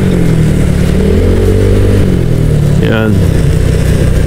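A 190cc motorcycle engine runs loudly close up with a steady, rattling idle, and a brief voice speaks over it near the end.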